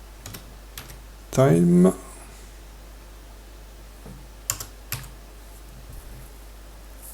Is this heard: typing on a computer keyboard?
yes